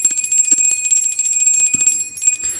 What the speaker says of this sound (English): as always, Wispy, we cleanse with the bell first